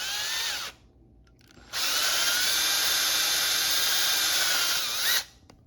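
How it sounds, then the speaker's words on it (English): A step drill bores holes for upper air deflectors on a 2024 Honda Gold Wing Tour DCT: a loud, steady whine for about three and a half seconds after a short earlier burst, with a brief quiet pause between. "drilling out these holes using a step drill"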